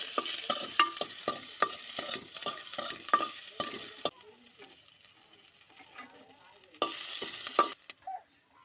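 Potatoes and green chillies fry in hot sunflower oil while being stirred: steady sizzling with repeated scraping strokes, then quieter bubbling with occasional clinks before a final burst of stirring.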